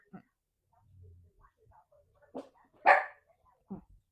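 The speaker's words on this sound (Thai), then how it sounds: "กูเปอร์ ไม่เห่าลูก" A dog lets out a few short, sharp barks nearby, spaced irregularly over several seconds in an otherwise quiet room, with a faint voice in the background.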